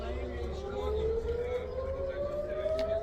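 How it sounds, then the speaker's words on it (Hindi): An air raid warning siren sounds in Israel during an Iranian air attack, a loud, slowly rising wail that holds steady, with voices nearby. "आप सायरन की आवाज़ सुन सकते हैं"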